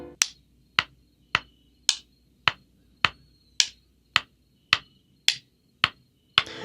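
Taped drumsticks tap out a steady 3/4 beat: a dozen crisp, dry clicks at an even, unhurried pace, close and alone with no other sound.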